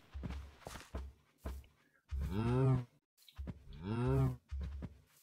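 Cows mooing in a blocky game world, two long drawn-out moos heard close, with soft thudding footsteps before and between them.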